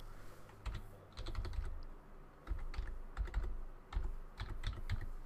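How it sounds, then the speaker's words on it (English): Typing on a computer keyboard comes in close, crisp bursts of key clicks separated by short pauses, with no voices. "we're going to type in there taskkill.exe."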